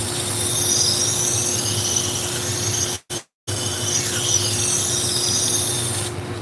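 A knife blade is drawn across a 120 grit abrasive in steady, continuous rasping strokes, close and fairly loud, with one short break partway through.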